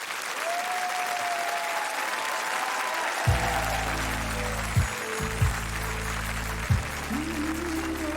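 A concert audience applauds continuously at a large choir show, dense clapping throughout, joined after a few seconds by low, pulsing musical tones as a performance begins.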